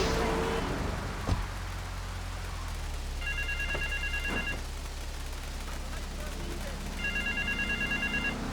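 A payphone rings twice in Grand Theft Auto III, short electronic trilling bursts over a steady rain-like ambient hiss, with a sharp bang near the start.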